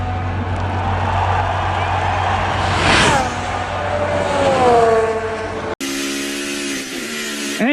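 Formula 1 cars at a Barcelona Grand Prix rolling to the control line at reduced speed, engine drones rising and falling as cars pass, with a high whine sweeping down, loud over crowd and commentary noise.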